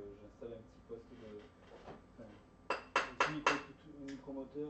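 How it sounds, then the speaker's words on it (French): Light metallic taps on a ring being hammered back into round, four sharp close strikes in quick succession with a few softer knocks around them, while a voice talks over the work. "il est en train de taper sur la bague pour pouvoir la remettre bien ronde"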